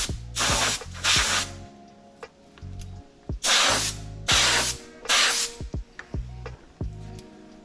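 Compressed air blasting a part clean during an oil change on an Audi Q7, several sharp loud hissing bursts of one to two seconds with brief pauses between and light mechanical clicks, close and without talk.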